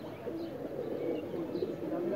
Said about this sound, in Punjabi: ਇਹ ਟੈਡੀ ਕਬੂਤਰ।